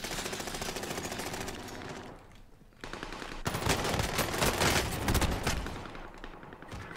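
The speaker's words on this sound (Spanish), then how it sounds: "¿Por qué hay tanto disparo?" Rapid machine-gun bursts in a video game rattle loudly, pause briefly, then resume in a heavier, sustained barrage of shots.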